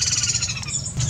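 A superb starling, or African starling, in its breeding season gives repeated squawking calls, loud and close, in a short continuous burst.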